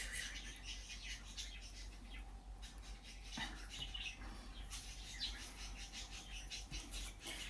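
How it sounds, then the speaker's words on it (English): Birds outside chirp and squawk in a busy, scattered chorus, a little distant and fairly faint behind a steady background hum. "The birds outside are crazy."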